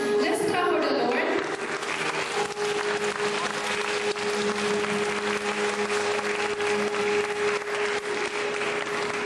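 An audience at a school recognition and graduation ceremony claps for the Lord, a steady, dense wash of applause that holds for several seconds, with a sustained tone and some voices beneath it.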